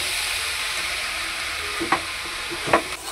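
Foxtail millet rice and vegetables fry in a pan with a soft, steady sizzle. Two brief spatula scrapes stand out near the end, and no one speaks.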